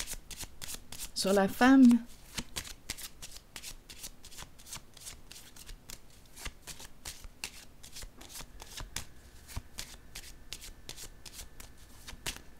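Tarot cards being shuffled by hand in a brisk rustling burst, then repeated soft card flicks and taps, close up, with someone speaking briefly over the shuffle.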